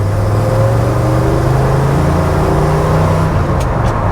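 A Ford F100 truck on very wide tires accelerates with a steady, loud engine drone and rising hum that stays close throughout, with no one speaking.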